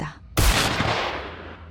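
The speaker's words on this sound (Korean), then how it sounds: "총소리였다." A single loud gunshot cracks suddenly, booming and echoing as it fades over about a second.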